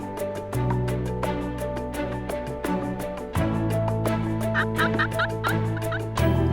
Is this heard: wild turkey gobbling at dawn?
yes